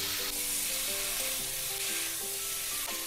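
Raw ground paste of ginger, garlic, cumin, coriander and fennel frying with flat beans and potatoes, giving a soft but steady sizzle that hisses evenly throughout.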